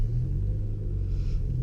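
Low, steady exhaust rumble from an idling supercharged Toyota Yaris GRMN, heard up close with a deep, even throb.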